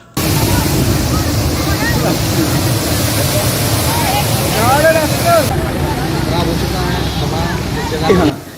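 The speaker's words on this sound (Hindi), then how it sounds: "यहाँ पर सरकारी पाइपलाइन फूट चुकी है" Water gushing from a burst government water pipeline at a lake, a loud continuous roaring rush close by, with people talking over it.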